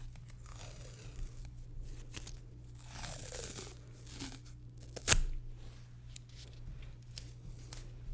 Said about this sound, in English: we'll just use a little bit of medical tape to hold that in place